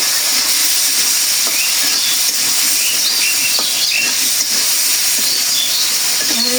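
A little water splashed into a hot pan of cooking food hisses loudly and steadily from start to finish, close up with faint crackles under the hiss and no talking.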